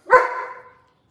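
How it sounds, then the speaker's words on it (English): A single sharp bark from a dog indoors, close and loud, trailing off quickly into silence, with no talking. "Got a very vocal dog."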